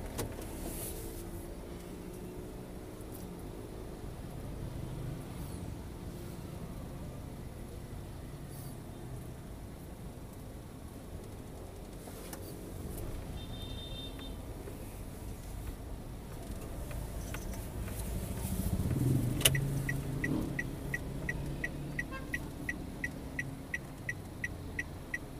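Busy night traffic in a jam on a Medan street: a continuous low rumble of cars and motorbikes, distant engines and a brief horn, ending in a quick run of rapid clicking.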